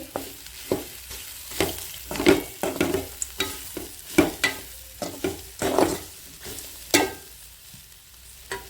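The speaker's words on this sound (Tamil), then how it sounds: "இனி பிரண்டை உள்ள போட்டுக்கலாம். போட்டு ஒரு ஓட்டு ஓட்டிட்டு" Pirandai (veldt grape) stirred and frying in a pan for chutney, giving a steady sizzle broken by repeated sharp scrapes and clatters of the spoon, close and fairly loud, with no talking.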